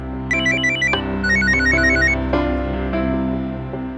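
A phone ringtone plays loudly, a bright repeating electronic melody over a steady tone, continuing throughout.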